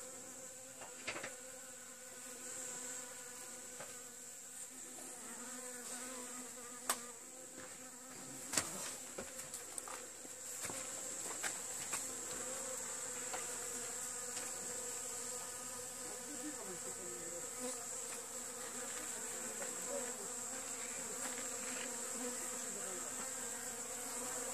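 Honeybees buzz steadily around hive frames in autumn, a dense continuous drone close to the microphone with a few brief knocks and clicks scattered through.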